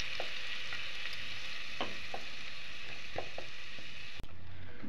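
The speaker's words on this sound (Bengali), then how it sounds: "এইভাবে অনবরত নেড়ে চেড়ে আমি গাজরটাকে 3 থেকে 4 মিনিটের জন্য একটু ভেজে নেব" Carrot paste frying in ghee over a low flame, a soft continuous sizzle broken by repeated light spoon taps and scrapes as it is stirred constantly, close and fairly quiet without talk.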